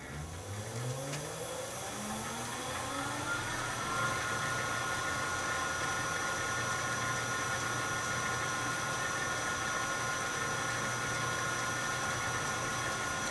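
South Bend lathe driven by a VFD with its gearbox removed spins up with rising tones, then settles into a steady, fairly quiet whir and hum.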